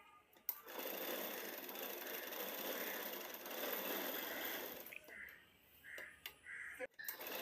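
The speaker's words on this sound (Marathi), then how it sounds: "सगळीकडून अशी पाव इंचाच्या गॅपवरती मी कवर शिलाई करून घेते." A sewing machine runs a continuous cover seam around a blouse at quarter-inch spacing, a steady close whir for about five seconds, then stopping and starting in short bursts.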